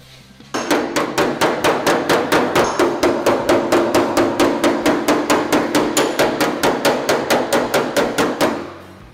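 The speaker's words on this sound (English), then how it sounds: "we're gonna work the dolly on the lows, pushing up, and we're gonna work the hammer on the highs, pushing down." A steel body hammer strikes sheet metal backed by a dolly to knock out dents: a long, loud, evenly paced run of ringing metallic blows, dozens in a row, close and uninterrupted.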